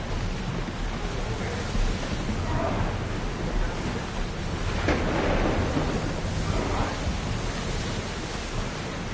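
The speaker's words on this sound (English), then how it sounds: "Would you look at that storm?" A thunderstorm rages in Assassin's Creed Odyssey, steady broadband roar of wind, rain and surf with low rumbling swells of thunder throughout, loud and continuous with no talk.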